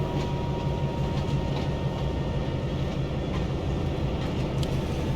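A train rolling on rails in a train driving video game, a loud, steady low rumble with faint rhythmic clicks of wheels over rail joints, continuous and close throughout.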